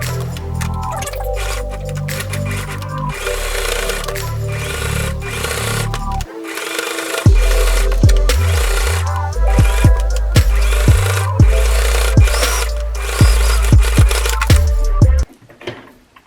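A sewing machine top stitches a T-shirt seam at the shoulder, running in loud, steady bursts with short pauses between them. There is no talking.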